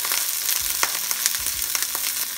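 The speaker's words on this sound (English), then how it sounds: "So I'm gonna turn sideways like this and let the skin cook" Salted salmon skin frying in a pan over medium to low heat, a steady close crackling sizzle with quick popping spatters and a few soft low bumps.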